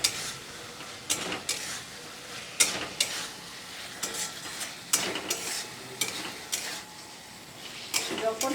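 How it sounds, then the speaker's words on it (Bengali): Potatoes stir-fried in oil and spice masala in a pan, with steady sizzling broken by repeated sharp scrapes and clinks of the spoon at irregular intervals, close and fairly loud. "এবার এর মধ্যে আমি আলু দিয়ে একটুখানি কষিয়ে"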